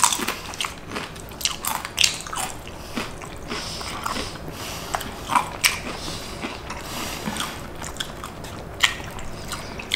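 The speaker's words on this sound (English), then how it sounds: "Big bite here." Close, loud bites and crunchy chewing of carne asada fries topped with shrimp and Cheetos, irregular crisp crackles and wet mouth sounds repeating throughout.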